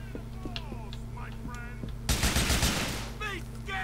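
Gunfire in GTA IV: a dense, loud burst of game gunshots erupts midway and rings out for about a second, over a steady game backdrop of hum and faint chirps, followed by quieter sharp cracks.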